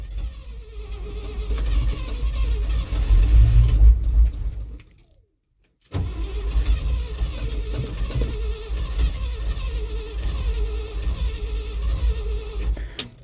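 A Flatfender Jeep engine on a cold start: a close, rough low rumble that dies out for about a second, then catches again and keeps running unevenly.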